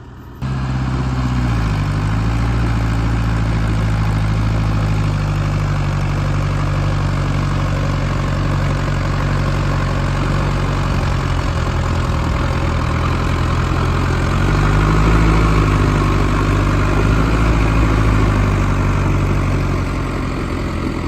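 Bulldozer engine idling at an off-road recovery, a loud, close, deep diesel rumble that runs steadily throughout, with small pitch dips around the start and midway.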